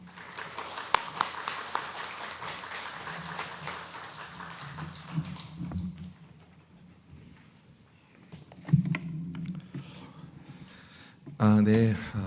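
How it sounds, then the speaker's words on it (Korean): Church congregation at a Sunday university chapel service claps to welcome a guest preacher as he comes forward; steady, moderate applause for several seconds that fades into quiet room sound with footsteps, ending in a short burst of speech. "나오실 때 환영의 박수 쳐주시면 감사하겠습니다."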